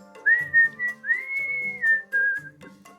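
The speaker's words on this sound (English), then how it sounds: "You're a good whistler." A person whistles a sustained, wavering tune in three drawn-out phrases, fairly close and clear, over a faint background of soft low thumps and room noise; no one speaks.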